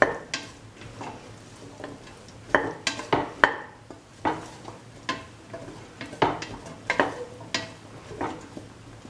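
Scrambled egg and cauliflower stir fry being mixed in a pan, with repeated sharp scrapes and clanks of a spatula against metal over a faint sizzle, coming in irregular bursts close by.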